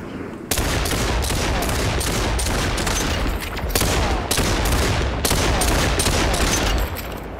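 Pistol gunfire in the video game Population: One comes as loud, dense volleys of rapid shots, nearly continuous across the stretch with a few brief breaks.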